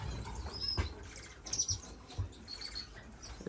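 Finches in an indoor bird room, faint high chirps and tweets scattered over a quiet background, with a few soft flutters and low bumps; no talking.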